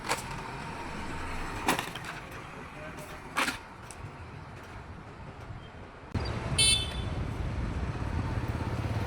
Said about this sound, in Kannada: ಇಲ್ಲಿ ಬರ್ತಿರೋ ಗಾಡಿ ಹುಬ್ಬಳ್ಳಿ ಟು ಬೆಂಗಳೂರು ಗಾಡಿ, ಹುಬ್ಬಳ್ಳಿ ಡಿಪೋದವರು ಆಪ್ರೇಟ್ ಮಾಡ್ತಿದ್ದಾರೆ